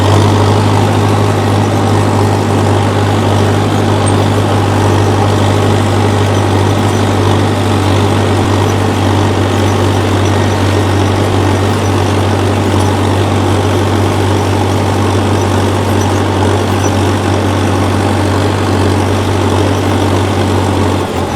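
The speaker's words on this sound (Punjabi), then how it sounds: "ਆਪਣਾ ਟਰੈਕਟਰ ਹਲਕਾ ਜਿਹਾ ਹੌਲਾ ਕਰਕੇ ਸਪੀਡ ਘੱਟ ਕਰਕੇ ਫੇਰ ਮੋੜ ਲਓ" Tractor engine droning steadily while pulling a disc harrow through a farm field, a loud continuous low hum with no pauses and no talk.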